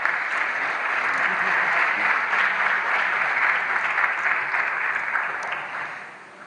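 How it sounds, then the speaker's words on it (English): Steady applause from a conference audience at a World Press Freedom Day 2017 plenary session, a dense even wash of many hands clapping that holds for several seconds and then fades out. "Please give another round of applause, ladies and gentlemen."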